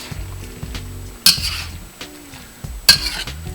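Chicken and ginger stir-fry being stirred in a pan, with two sharp metallic clatters of a utensil against the pan standing out over a low steady hiss.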